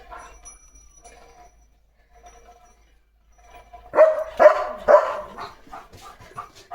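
A dog named Leo barks several times in a quick burst at cattle passing by, loud and close. Quieter barks and whimpers come first, then the sharp barks.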